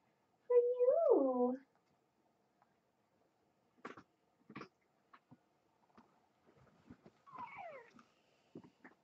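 Young kitten giving one clear, rising-and-falling meow near the microphone, followed by soft handling clicks and a second thinner, shorter mew, with a quiet voice nearby.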